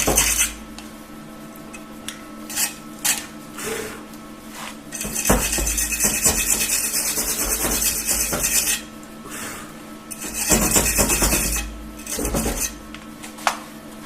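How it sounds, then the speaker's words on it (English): An angle grinder works on a rusty Classic Mini van panel, harsh metallic grinding in several close bursts separated by short pauses, with scraping and clanking between them. "I'll just grind that down a little bit so that the other panel can go"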